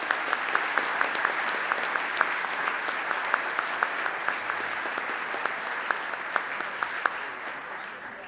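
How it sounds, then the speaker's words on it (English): Sustained applause from an audience honoring the 2019 Truck Dealer of the Year nominees at an awards ceremony, dense steady clapping with a few sharper individual claps standing out throughout. "please give us a nice round of applause for our 2019 nominees"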